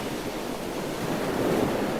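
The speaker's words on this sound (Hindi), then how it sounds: "समंदर की लहरों की आवाज सुनाई दे रही थी।" Ocean waves roll onto Dumas Beach in Gujarat, a black-sand shore, as a steady, continuous wash of surf with a little wind noise and no voices.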